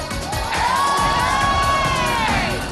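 A crowd at a lively Filipino stage show cheers and shouts, a loud, continuous roar of voices and whoops with a sustained whistle-like tone rising through the middle.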